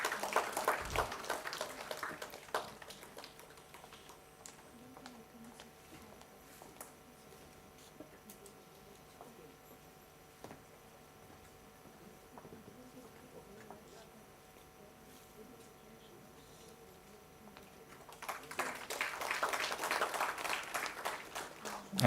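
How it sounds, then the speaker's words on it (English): An audience at the final-day ceremony of a Goa science event applauds prize winners. Clapping swells at the start, thins to a low scattered patter through the middle, then rises again near the end. "Give a big round of applause."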